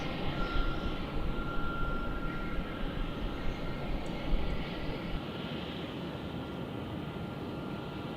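Airliner taking off at Melbourne Airport, a steady, broad engine roar holding evenly at a distance throughout with no talk over it.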